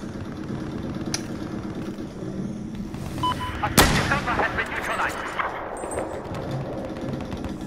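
Gunfire in Battlefield 4 multiplayer, a sharp loud rifle crack near the middle over a busy battlefield background of distant shots and engine rumble.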